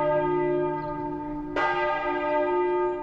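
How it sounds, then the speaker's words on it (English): A church bell rings loud and near, a sustained resonant tone with long humming overtones, then a second fresh strike partway through that blooms and slowly fades. "At exactly 4:38 this afternoon, the ringing church bells took Russ Brissett back to a dark place"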